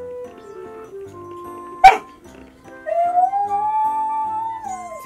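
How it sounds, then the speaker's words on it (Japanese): A rescue dog howls up close: a drawn-out, wavering tonal wail that rises and holds, preceded by softer whining tones and a brief sharp yelp. "よく遠吠えする"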